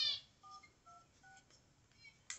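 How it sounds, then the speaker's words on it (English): A series of telephone keypad tones plays faintly, several short dual beeps in quick succession, ending with a brief louder tone. "did I sound like I dialed 911 there?"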